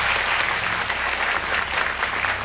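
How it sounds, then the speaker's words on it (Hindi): Studio audience applause on the KBC quiz show, a brief burst of dense, even clapping from the crowd with no talk over it. "तालियां बज जाए इनके लिए।"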